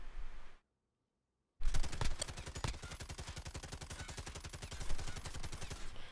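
Call of Duty Warzone gunfire: a short burst, then a second of silence, then a long, rapid, loud automatic stream of shots at an even rhythm.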